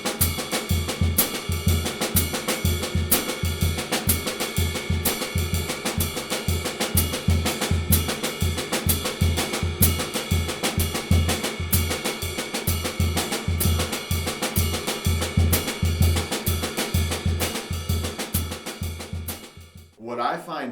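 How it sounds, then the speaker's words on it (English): Syncopation exercise on a full drum kit, with bass drum, snare and cymbals in a dense continuous groove, loud and close, holding a steady rhythm for about twenty seconds before ending. "And then it'll sound like this when you play it with the whole kit."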